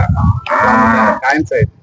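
A Khillar cow moos loudly and up close, a long drawn-out low call followed by a couple of shorter grunting lows.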